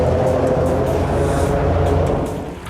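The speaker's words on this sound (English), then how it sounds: "the unusual noise made by the traffic as it hums across the steel deck" Steady broadband hum of traffic rolling across the steel deck of Duluth's lift bridge, a continuous dense drone that holds level and fades slightly near the end, with no talk.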